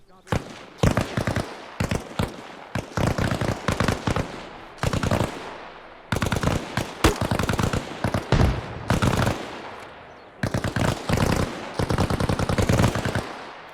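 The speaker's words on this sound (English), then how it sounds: "I can do suppressive fire." Bursts of suppressive machine gun fire from an AI squad in the video game Arma Reforger, loud rapid rattling volleys in several long strings separated by brief pauses, close and dominant.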